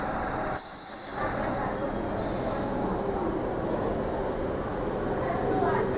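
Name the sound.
vintage electric train arriving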